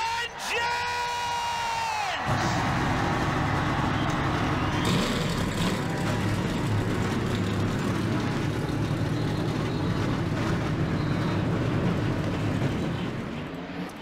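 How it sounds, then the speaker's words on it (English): Target Series race car engines fire up together at a Vermont speedway, a sudden loud roar that follows a brief rising whine and holds as a dense, continuous engine din mixed with crowd noise. "Let's go to trackside and fire these Target Series engines up."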